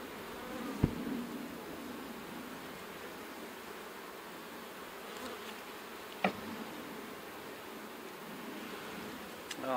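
A dense, steady buzz of many honeybees around an opened, crowded hive full of brood, close and continuous, with a couple of sharp knocks from handling the hive.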